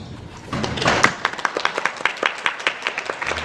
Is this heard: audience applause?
yes